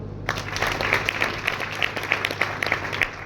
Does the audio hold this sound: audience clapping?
yes